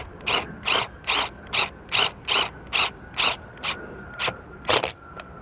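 RV awning fabric bead is fed into the extrusion rail of a Solera awning on a 2007 Four Winds motorhome, producing about a dozen evenly spaced rasping, sliding scrapes, close and steady in rhythm, with no talk.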